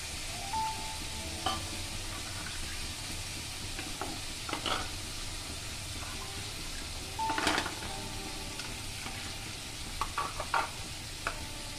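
Water is added to sizzling spice paste in a pan for a fish roe fritter curry (macher dimer borar jhol). The paste keeps up a quiet, continuous sizzle broken by scattered scrapes and taps of a stirring spoon.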